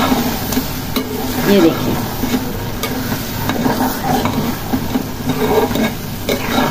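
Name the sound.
green mutton kheema being stirred and fried on low flame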